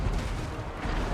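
Booming cannon fire in the Total War: Warhammer 2 battle game, a dense rumbling barrage with heavy low-end that fills the whole moment, loud and continuous, with no talk over it.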